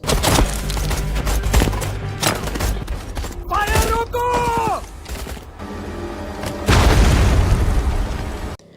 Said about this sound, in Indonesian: Beberapa kamp persembunyian tentara Pakistan habis diledakkan oleh pasukan India